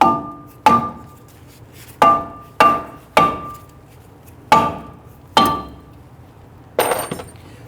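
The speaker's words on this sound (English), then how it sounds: "we're just going to use a mallet, and you want to give this a few bonks" A mallet strikes a rusted, stuck brake rotor on a 2011-2017 Nissan Quest hub, making eight sharp, ringing metallic bonks at uneven intervals, close and loud with brief decays between blows.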